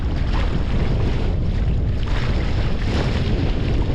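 A fishing boat running fast on open water off Port Aransas, Texas, a constant loud rush of engine, hull and water noise mixed with heavy wind buffeting on the microphone.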